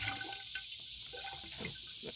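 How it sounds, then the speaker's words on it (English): Water pours into a garden container outdoors in a wooded garden, a steady close trickle and splash with soft fluctuations, no talking. "The last thing, of course, you want to do is you want to fill it with water."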